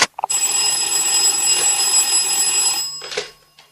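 An old telephone in an Egyptian radio drama rings with a loud, continuous electric bell for nearly three seconds, then stops, followed by a brief second burst, with no talk over it.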